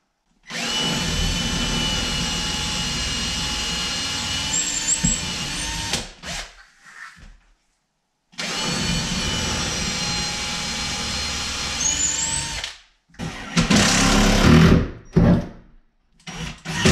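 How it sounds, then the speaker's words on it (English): A power drill boring holes for table legs runs in two long, steady whining bursts of about five seconds each, with short pauses and some handling clatter in between. "now I'm going to drill for the legs here."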